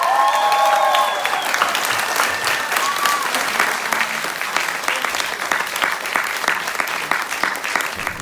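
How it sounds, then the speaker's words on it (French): A concert audience at a Ukrainian pop-rock tribute show in Lyon applauds a singer, dense clapping filling the room and continuing steadily after a few sung or whistled notes at the start. "un tonnerre d'applaudissements"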